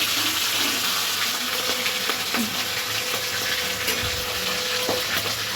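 A fish head frying in smoking-hot oil, giving a loud, constant crackling sizzle that stays dense and even throughout, with occasional faint clinks. No voices.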